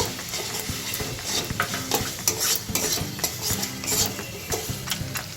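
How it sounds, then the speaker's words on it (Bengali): Cashew and raisin paste frying in a pan for a vegetarian chhana kofta curry, sizzling softly under repeated scraping and stirring strokes, close and steady, with no speech. "এবার দিয়ে দিচ্ছি কাজু আর কিশমিশ বাটা। ওটাকে দিয়েও আমি একটু ভালো করে কষিয়ে নেব।"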